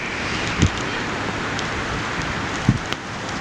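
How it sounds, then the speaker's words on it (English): Steady rain falls outdoors, a dense broadband patter with a few sharper drips or knocks standing out near the start and toward the end. "It is raining"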